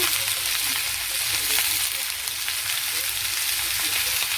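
Vegetables frying in a pan with salt and turmeric, a steady close sizzle with crackling that holds evenly throughout, with no talk over it.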